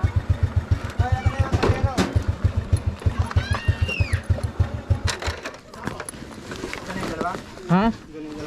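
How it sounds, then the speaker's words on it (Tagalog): A motorcycle engine idles with a steady, rhythmic low putter for about five seconds, then fades, while voices and faint chirps carry on around it. "Babaling ko lang yung motor."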